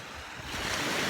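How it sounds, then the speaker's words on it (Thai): Ocean waves wash on a shore at Laguna Beach, Phuket, a broad rushing surge that swells louder partway through, with wind noise over the microphone. "จะฟังเสียงคลื่นทะเลไปด้วย"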